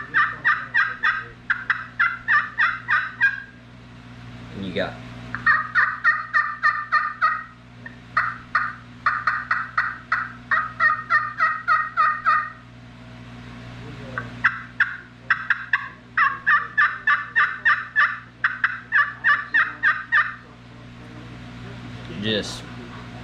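Custom Choctaw turkey calls imitate hens with rapid bursts of yelps and clucks in repeated rhythmic series, close and loud, with brief talk between runs and a steady hum beneath.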